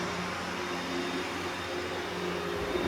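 A vacuum cleaner runs steadily over a carpet after a pre-spray treatment, producing a constant, loud motor whine and airflow hiss throughout with no pauses.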